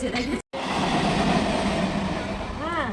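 A moving suburban train running from Sealdah toward Dakshineswar rumbles steadily inside the carriage, with a brief cutout, a passing tonal whine, and voices talking over the noise.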